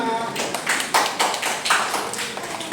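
A classroom of students claps for a presenting group, a short burst of scattered, uneven hand taps up close that thins out and fades after a couple of seconds.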